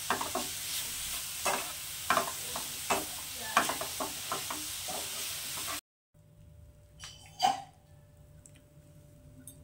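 A semolina filling being stirred in a pan over medium heat, with rhythmic scraping strokes over a soft sizzle for about six seconds, then near quiet with one louder knock.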